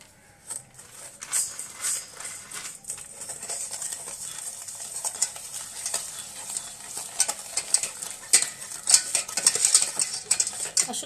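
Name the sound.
whisking eggs and sugar for caramel pudding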